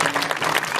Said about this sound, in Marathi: त्यांच्यासाठी पण जोरदार टाळी वाजवा